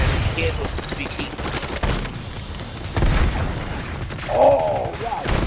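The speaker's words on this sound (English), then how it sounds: "Hostile sentry turret active" Rapid bursts of sentry turret gunfire and booms crackle through a video game firefight, with voices speaking over the noise.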